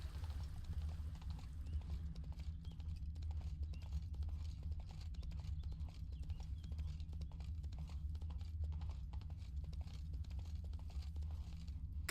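Steady clip-clop of horse hooves as Roach, Geralt's horse in The Witcher 3: Wild Hunt, gallops at a constant rhythm, loud and close over a low continuous rumble, with no talk.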